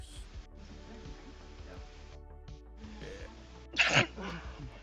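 A sharp, sudden sneeze bursts out near the end, preceded by quiet room noise and faint movement.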